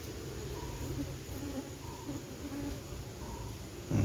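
Honey bees buzz softly around a beehive box while a colony is being split, a low, steady hum with faint wingbeat tones rising and fading and a brief louder knock at the end.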